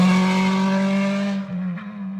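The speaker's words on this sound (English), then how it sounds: "You can't compete with the sound of one of those World Rally cars." A World Rally car engine holds a loud, steady, close droning note, then its pitch dips and wavers briefly before settling back, with no talking.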